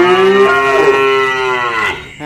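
A single long, loud moo from cattle at a cow farm in Vietnam, held steady for about two seconds before trailing off, close and clear.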